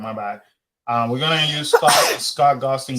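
A sharp, sudden sneeze breaks into ongoing conversation, with people talking just before and after it.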